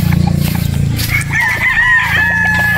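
A straight comb Boston Roundhead rooster crows once, loud and close, and the drawn-out call starts after a brief low rumble.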